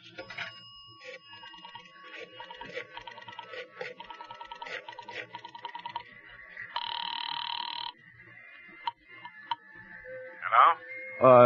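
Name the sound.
telephone ringing on the line, radio drama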